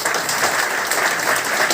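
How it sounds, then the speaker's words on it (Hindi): Audience applause at a seminar in Jabalpur, a dense burst of many hands clapping together, loud and continuous for under two seconds with no talk over it. "एक बार जोरदार ताली केसी छाबड़ा जी के लिए"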